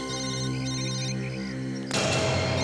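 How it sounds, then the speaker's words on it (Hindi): A mobile phone rings loudly with a steady tonal ring pattern, then a burst of broader, brighter sound cuts in near the end; no speech is heard. "सर फोन फिर से बज रहा है सर।"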